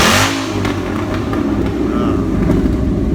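A loud muscle car engine revs hard with QTP exhaust cutouts open, a deep, raw, continuous roar heard up close, with no one talking over it.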